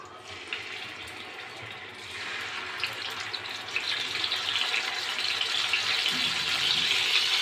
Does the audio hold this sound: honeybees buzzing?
no